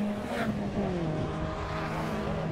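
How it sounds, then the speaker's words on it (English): A BMW Compact Cup race car in the 2017 Scottish series at Knockhill circuit passes on track, a loud sustained engine drone whose pitch drops as it goes by, with crowd-ambient noise throughout. "So Liam McGill comes down and past us"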